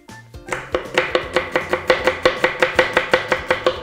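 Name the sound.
finely chopping spring onion on a board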